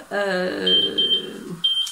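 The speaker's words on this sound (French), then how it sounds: "J'avais mis mon minuteur." A kitchen timer alarm beeps in a steady repeated pattern of short electronic tones, fairly close and clear, with no talking over it.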